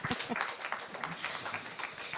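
Audience at a panel discussion on climate fatigue and international solidarity applauding, a dense, fairly faint patter of clapping that carries steadily throughout.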